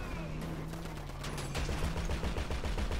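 Rapid automatic gunshots in a GTA 5 shootout, a steady stream of bursts that grows louder toward the end, with a sustained tone running beneath during the first half.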